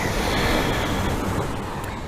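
Ocean surf washes in a continuous broad roar during an outdoor yoga session in Maui, Hawaii, heard fairly loud and steady with no talk.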